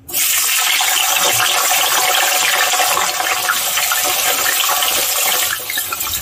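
Thinly sliced brinjal, soaked in water, hits hot oil with a sudden loud, hissing sizzle that starts abruptly and stays intense and steady throughout, with no talking.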